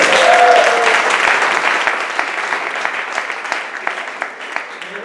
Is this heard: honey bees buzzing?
no